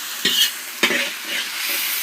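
Ginger and garlic frying in a pan, stirred with a metal spoon: two sharp scraping clinks of the spoon over a steady soft sizzle, close and fairly quiet.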